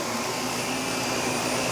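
A vacuum cleaner power nozzle with height adjustment runs steadily on carpet. It gives a loud, constant whirring roar with no change and no voices.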